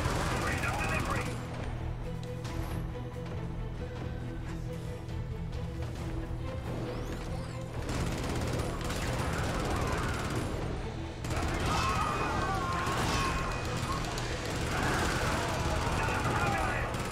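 Sustained gunfire and explosions in the Helldivers co-op shooter, a dense continuous barrage of rapid shots and blasts over constant rumble, with players talking over the battle.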